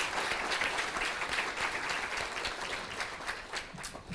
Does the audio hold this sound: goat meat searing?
no